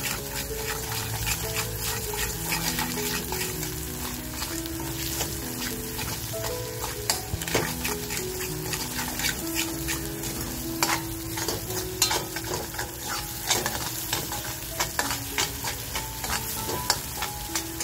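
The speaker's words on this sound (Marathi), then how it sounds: "हा मसाला आपल्याला आहे ना असा छान खमंग परतवून घ्यायचा आहे" Spice masala for a dried fish curry is stir-fried in a pan, with continuous close sizzling and frequent sharp scraping stirs of the spoon throughout, alone with no talk.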